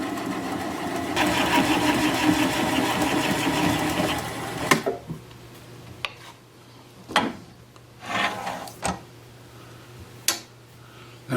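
A wood lathe spins an apricot wood bowl held on only by a gouge's bevel pressure, a steady droning whir for the first few seconds, then dying away into quiet with scattered brief knocks and scrapes.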